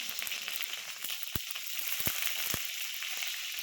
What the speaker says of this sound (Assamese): এতিয়া আমি এইখিনি কম জুইত অলপ সময় ভাজি থাকিম